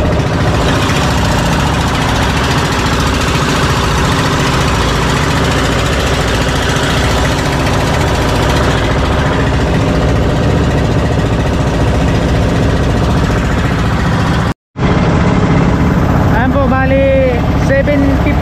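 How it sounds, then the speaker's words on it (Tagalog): Two boat engines run steadily on a small vessel heading toward port, a loud, continuous mid-pitched drone with a throbbing pulse that fills the recording, briefly cutting out near the end before resuming. "Bali, dalawang makina yung nakakabit ngayon."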